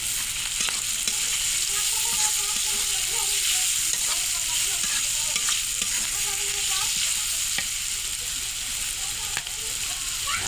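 Vegetables for a four-vegetable bhaji fry and are stirred in a pan, with chilli going in first and carrot and potato to follow. A steady, close sizzle runs throughout, broken by scraping stir strokes, with no talk.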